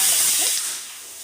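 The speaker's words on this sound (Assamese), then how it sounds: "ইফালে কুকাৰে চিটি মাৰি আছে" A pressure cooker cooking rice lets out a loud hissing steam whistle that starts strong and gradually fades over about a second.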